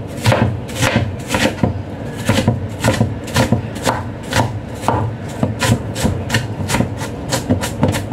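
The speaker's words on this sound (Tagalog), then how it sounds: "At saka yung ating onion, maliliit lang na dice." A knife dices onion into small pieces on a chopping board, with steady, rhythmic chops falling roughly twice a second, close and fairly loud.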